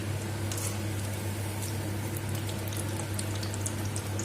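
Moong dal and spinach vadas sizzle in hot oil in a pan over a medium flame, a continuous dense crackle with scattered pops, steady and close.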